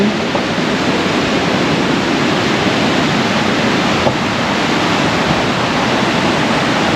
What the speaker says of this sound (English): this is that waterfall we saw from the swinging bridge over here